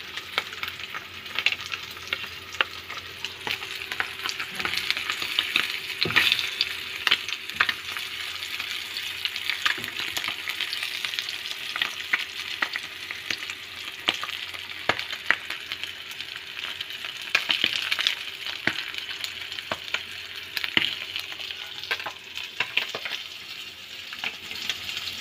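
Milkfish frying in oil for breakfast, a continuous loud hiss of sizzling with frequent sharp pops and spatters throughout, close up and uninterrupted by talk.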